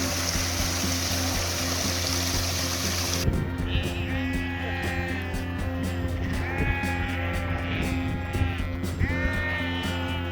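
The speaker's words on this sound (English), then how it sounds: "Sheep! Lots of sheep!" Sheep bleat repeatedly out in the open countryside near Hadrian's Wall, several wavering calls overlapping at moderate distance above a steady rush of flowing water.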